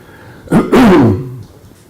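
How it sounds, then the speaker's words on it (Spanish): One harsh throat-clearing cough, close and loud, rasping briefly before trailing off into quiet. "el primero que tose"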